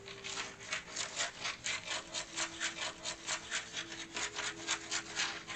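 Fabric is cut by hand for an 1830s-style bodice with quick, evenly spaced rasping strokes, roughly four a second. The cutting sounds close and steady, with no talking.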